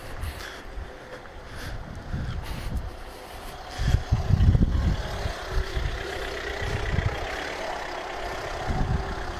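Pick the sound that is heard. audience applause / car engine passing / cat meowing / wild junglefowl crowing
car engine passing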